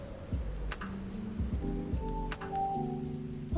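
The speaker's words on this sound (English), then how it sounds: "There are also weather effects outside the window. If you want rain or snow, you can control the wind and watch the trees rustle." Steady rain falling outside a window in the Spirit City Lofi Sessions video game, a soft continuous patter alongside gentle lofi tones and ticks, with no talking.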